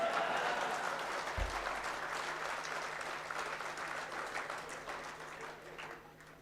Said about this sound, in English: You can clap a bit louder also.